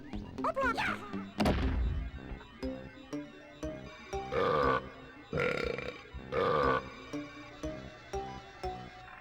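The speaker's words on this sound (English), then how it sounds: "of belching Kremlings in barrels" Kremling enemies in barrels belch in Donkey Kong 64's follow-the-melody minigame, giving a run of loud, tonal burps at different pitches with thuds and crashes between them, over game music.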